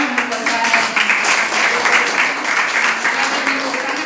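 A church congregation at Sunday worship applauding together, a dense, continuous, fairly loud patter of many hands clapping that holds steady throughout.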